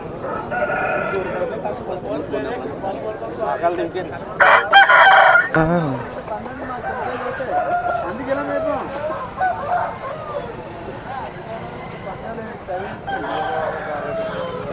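A rooster at the Gokavaram poultry market crows loudly and close by, one clear cock-a-doodle-doo in the middle, among clucking hens, market chatter and voices talking nearby.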